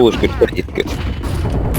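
A flashbang grenade goes off in Counter-Strike, a loud, dense burst merging into continuous booming, gunfire-like game noise for the whole stretch, with a voice briefly heard.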